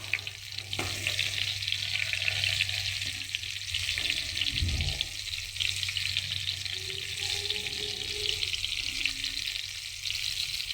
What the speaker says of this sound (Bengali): অল্প তাপে আপনারা সুন্দর করে বেগুনগুলো এভাবে করে ভেজে নেবেন